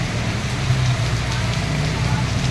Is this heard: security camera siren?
no